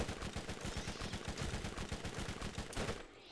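A glitched gun in Borderlands fires nonstop in a rapid, evenly spaced stream of shots that stays steady and fairly faint for about three seconds before cutting off.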